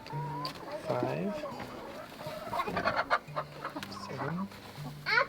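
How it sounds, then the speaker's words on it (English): A pet chicken clucks close by in short, repeated bursts, and people talk over and between the clucks. "I got this cute chicken."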